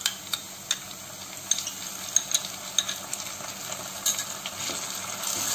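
Ginger garlic paste hits browning onions in a pan, setting off a soft, steady sizzle with irregular light clinks and taps of a spoon against the metal, no voices.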